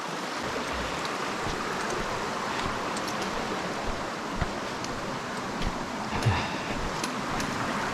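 Creek water rushing steadily on a Black Star Canyon hike, a constant broadband wash with occasional small splashes and no talk.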